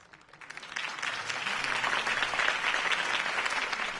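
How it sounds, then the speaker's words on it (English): A crowd at a political campaign rally in the Telltale Batman video game breaks into applause, swelling from a faint start to a steady, dense wash of clapping that holds to the end, with no talking. "If only Mr. Wayne, my campaign's largest backer, could have heard that applause"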